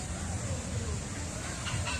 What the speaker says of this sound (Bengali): তার পাশে আছে হচ্ছে হাঁস বিভিন্ন প্রকার রাজহাঁস